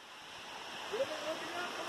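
Soft, continuous rush of a river flowing beneath a swaying footbridge on the Appalachian Trail, faint and steady with a brief voice over it.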